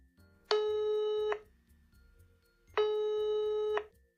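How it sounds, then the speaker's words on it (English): A telephone rings twice, each a steady electronic tone lasting about a second, with a short gap between them, fairly close and with no voices. "Tom's phone rang."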